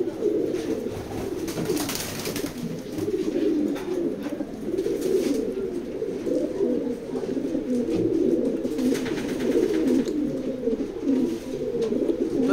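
A released female racing pigeon coos repeatedly, with soft throaty calls close by over constant background noise and occasional wing-flutter bursts.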